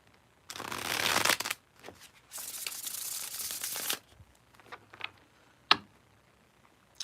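Two long riffles of a card deck being shuffled up close, followed by a few soft taps and clicks as the cards settle.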